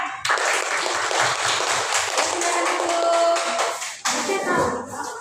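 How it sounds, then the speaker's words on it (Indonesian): Children in a classroom clap together in a steady burst for a group of girls in hijab, rhythmic clapping filling most of the moment before it breaks off and a voice speaks. "tepuk tangan untuk kelompok berhijab"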